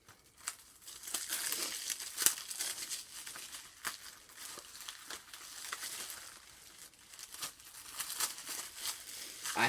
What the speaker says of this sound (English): I hate when the plastic sticks to the spine